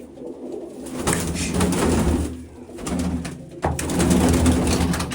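Pigeons in a coop give a steady run of close, throaty coos and rustling bursts, several birds calling over one another with no talk.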